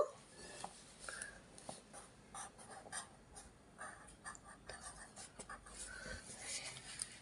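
Pen or pencil writing the word for ball by hand in a Bangla first-grade lesson, faint soft scratching strokes close by, with quiet speech in the background.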